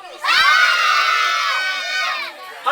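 Party crowd of adults and children at a birthday gathering shouting together on cue, a loud sustained collective yell lasting about two seconds before trailing off.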